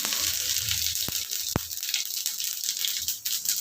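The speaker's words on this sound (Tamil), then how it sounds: "இப்போ எண்ணெய் காஞ்சிடுச்சு கடுகு சீரகம் கருவேப்பிலை" Mustard seeds, cumin and curry leaves sizzling in hot oil, a continuous bright hiss with a couple of sharp pops and crackles standing out, steady and close.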